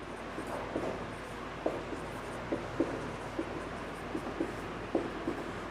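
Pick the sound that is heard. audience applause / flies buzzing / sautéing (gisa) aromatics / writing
writing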